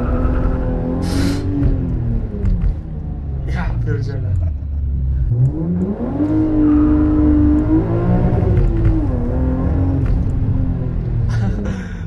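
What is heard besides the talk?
BMW M3 E36 accelerating, engine revving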